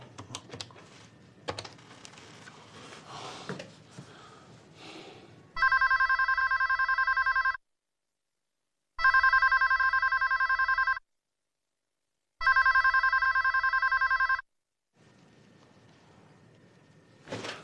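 A telephone rings indoors in a rural village home, three loud electronic bursts of about two seconds each separated by silent gaps, following some quiet shuffling.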